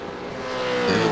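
A Supercars race car at Barber Motorsport, engine rising in a loud close rev with crackling pops from the exhaust as it comes off the throttle.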